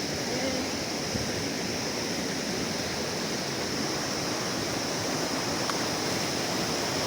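The Pakhar Khola, swollen with floodwater, rushes past in a constant broad roar that stays steady throughout, fairly close and with no voices.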